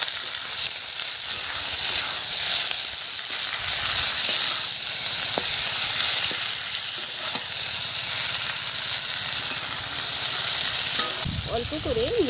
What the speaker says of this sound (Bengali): দিয়ে দিলাম তেজপাতা আর পেঁয়াজ কুচি